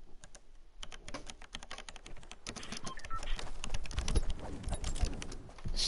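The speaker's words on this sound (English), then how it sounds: "Got this new keyboard, Logitech G Pro. It's so good. Just listen." Typing on a Logitech G Pro keyboard, a rapid close-up stream of sharp key clicks and clacks that grows busier and louder toward the end, with no talking.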